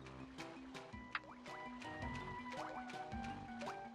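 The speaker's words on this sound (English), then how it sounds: "And that raises the water level." Rising water in the Banjo-Kazooie level Clanker's Cavern, heard as liquid filling and burbling sounds with drips and splashy game effects over steady background music, moderately loud throughout.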